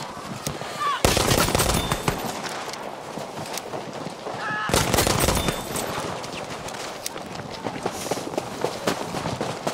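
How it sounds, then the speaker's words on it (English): Rapid pistol gunfire in the shooter game Battlefield V, with bursts of sharp cracks around the one-second and five-second marks and steady game action between, loud and close. "He's killing people like on the first first bullet from his pistol."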